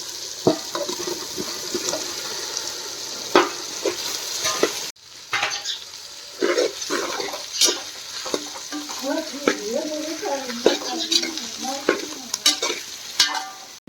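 Potatoes being stirred and fried in a large pot, with steady sizzling and repeated clanks and scrapes of stirring close by.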